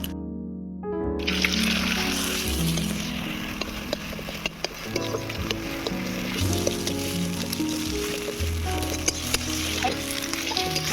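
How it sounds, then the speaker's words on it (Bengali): Eggs, seasoned with salt and turmeric, are scrambled and fried in a pan, filling the space with a steady sizzle, and a spatula scrapes and stirs through it while tonal background noise hums underneath. "ডিমগুলো ঝুড়ো করে ভেজে নেওয়া হয়ে গিয়েছে"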